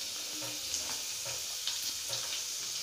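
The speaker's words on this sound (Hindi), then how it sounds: "प्याज को हल्का सा हम भूनेंगे पहले" Onions frying in hot oil, a soft continuous sizzle with a few light stirring clicks, close and steady with no talking.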